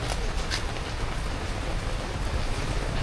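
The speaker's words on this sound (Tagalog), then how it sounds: "Umuulan ngayon mga boss." Rain falls steadily during the rainy season outside a motorcycle parts shop, a continuous rushing hiss with a low rumbling bed beneath it.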